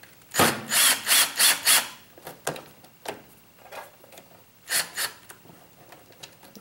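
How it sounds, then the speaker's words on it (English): A power driver works screws during a teardown of a Logitech G27 racing wheel, with a rapid run of four short whirring bursts followed by scattered clicks and handling noises, then two more brief bursts, close up and without talk. "The fact that I am using a power tool, just because I have it."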